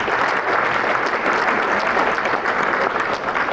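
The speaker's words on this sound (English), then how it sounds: "give yourself a big round of applause because you're awesome" Sustained, even applause from a crowd at a charity walk event, loud and continuous throughout with no talking over it.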